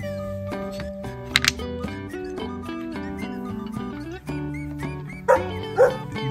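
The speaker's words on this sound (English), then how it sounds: "Dog, aso, aso, aso." A recorded dog barks a few short times from a wooden farm animal puzzle toy, sounding over a cheerful melody that plays throughout.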